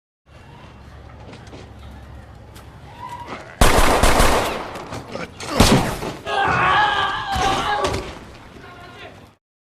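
Staged film fight with gunfire, slams and heavy blows, loud bursts of impacts and shots in quick succession after a quieter opening, with voices mixed through the action.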